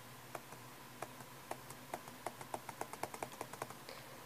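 Keys on a laptop keyboard, a Chromebook or Windows Latitude, are pressed in a quiet run of faint, sharp clicks that speed up into a quick, even sequence, with no talking.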